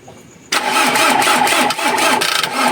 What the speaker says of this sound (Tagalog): magpapanda na tayo pag bagong overall ang sasakyan